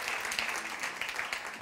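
A church congregation applauds guest speaker Pastor Anthony at a midweek service, a continuous crowd of clapping hands with a few sharper individual claps, sustained evenly and somewhat distant.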